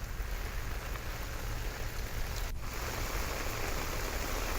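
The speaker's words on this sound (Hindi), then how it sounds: "लगातार 1 घंटे से मूसलाधार बारिश हो रही है" Torrential rain pouring down steadily over flooded streets in Bhopal, a dense unbroken hiss of water on surfaces, loud and continuous with no voices.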